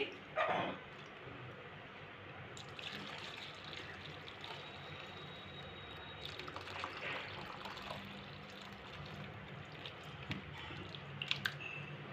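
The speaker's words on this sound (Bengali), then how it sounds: "এবার আমি এটাকে ছেঁকে নেব তা আমি সুতির কাপড় নিয়েছি" Curdled milk being strained through a cotton cloth, with a brief splashy pour at the start, then quiet, faint dripping and wet squishing sounds spread sparsely over a low room background.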